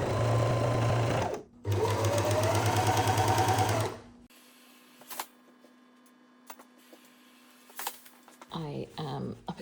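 A sewing machine stitches skirt fabric in two close, loud bursts of rapid whirring, briefly paused between them, followed by quiet handling clicks and rustles.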